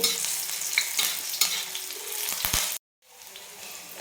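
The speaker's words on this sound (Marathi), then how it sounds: "तीन हिरव्या मिरच्या आहेत तिखटवाल्या ते टाकायच्यात आपल्याला आणि एक मिनिटभर फक्त परतून घ्यायचं" Three hot green chilies stir-fry in a pan with a bright, steady sizzle, broken by scraping stir strokes and a brief silent gap near the end.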